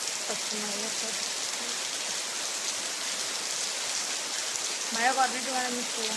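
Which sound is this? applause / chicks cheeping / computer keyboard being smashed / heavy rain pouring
heavy rain pouring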